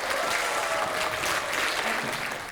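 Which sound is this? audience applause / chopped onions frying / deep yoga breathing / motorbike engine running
audience applause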